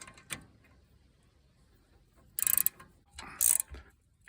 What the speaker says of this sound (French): Prenez votre clé de 13. Vous la mettez en position,